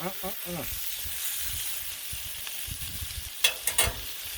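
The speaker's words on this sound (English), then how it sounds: "Getting a good skin on the bottom there. Good sear." Buttermilk-brined half chickens sear on a Blackstone griddle with a steady close sizzle, broken near the end by a few sharp spatters and scraping clicks; a voice briefly cuts in at the start.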